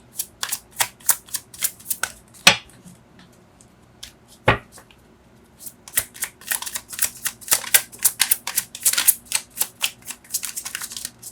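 Tarot cards being shuffled in quick, crisp riffling bursts, close and loud, with a couple of sharp slaps and a brief pause midway before a long run of rapid shuffling.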